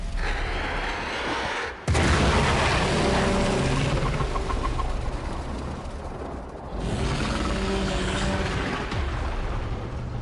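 Explosion in the video game Warframe: a loud broadband blast bursts in near two seconds and rumbles on, with a second swell of debris-like roar later, all alone without talk.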